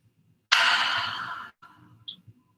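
A long audible exhale during a yoga session, a loud breathy rush lasting about a second, followed by a softer shorter breath and a faint click, close and alone.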